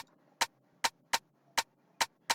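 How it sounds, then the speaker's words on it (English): Six dry, sharp rim shot hits from a drum machine sample play without reverb at an uneven rhythm, each a short bright click that stops dead, standing alone. "So this is the rim shot."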